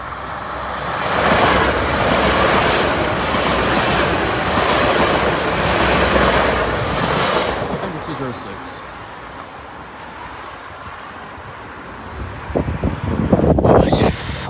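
Lincoln Central to London King's Cross train passing Oak Farm Level Crossing, a broad steady roar of rushing air and wheels that fades away, followed by quieter ambience and some clattering near the end.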